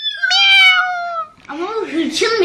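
A human voice imitates an angry cat with a long, drawn-out meow, followed by a brief pause and a rougher, snarling meow-like vocalization, loud and close.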